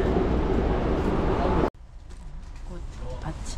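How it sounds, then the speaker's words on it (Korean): Seoul Station's train platform carries loud, steady rumbling noise that cuts off abruptly, then gives way to quieter ambience with faint pigeon coos and distant voices. "자, 여기는 서울역."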